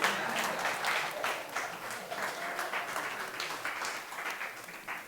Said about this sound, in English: You can clap the hands.